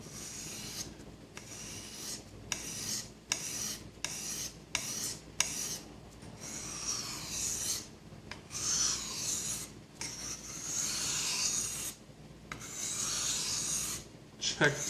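A knife blade is drawn repeatedly across a sharpening stone, producing about a dozen close, rasping strokes in an uneven rhythm, some short and some long, separated by brief pauses, with no talking.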